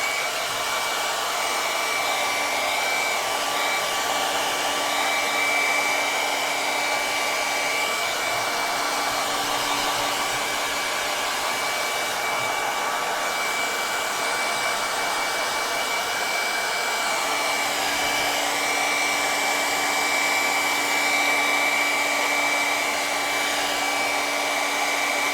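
A hair dryer blows continuously at full power, a loud steady whirring hiss with a constant tonal whine, running alone without pause, drying paint on a canvas.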